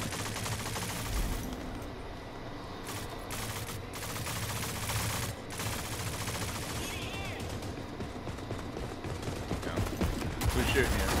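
Gunfire crackles in the online shooter Rogue Company during a King of the Hill match, with rapid bursts and single shots layered over a dense, busy game mix.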